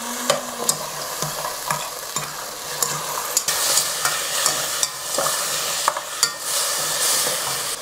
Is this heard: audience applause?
no